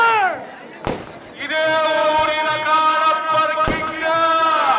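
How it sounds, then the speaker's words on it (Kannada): Firecrackers burst at a village bull-running festival: a loud close bang, then another sharp crack a few seconds later, over a long whistling rocket tone and festival crowd noise, with people talking. "ಪಟಾಕಿ ಸತ್ ಕೇಳ್ತಾ ಇತ್ತು."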